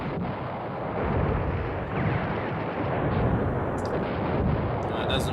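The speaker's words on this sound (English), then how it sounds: "That does not mean stop dropping artillery on them though." Artillery fire rumbles in the war game Command Ops 2 as a dense, steady roar of distant guns and impacts, with a voice talking faintly and briefly amid the din.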